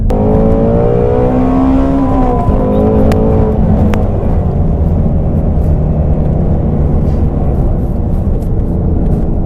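A Ford Shelby GT350 engine revs hard to around 8,000 RPM, a loud, close, sustained howl that climbs steeply in the first few seconds, then settles into a rough, roaring drone heard from inside the car.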